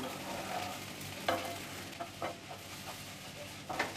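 A spatula stirs a cooked matki (moth bean) vegetable filling in a pan, soft scraping and mixing with a few sharper clanks against the metal, close by and without talk.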